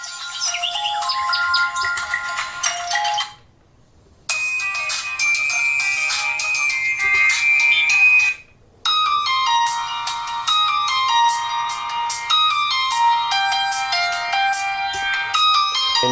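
Ringtone melody from the rear speaker of a Landvo L600S smartphone, loud and bright, playing in three separate phrases with short silent gaps between them and no talking.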